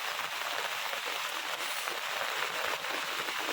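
Heavy rain pours steadily as a dense, even hiss with no breaks, close and fairly loud throughout.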